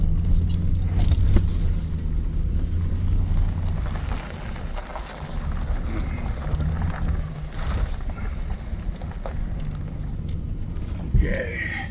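A car pulling into the parking area by Devils River, its engine and tyres rumbling steadily with wind buffeting the microphone and keys jangling, while people talk over it.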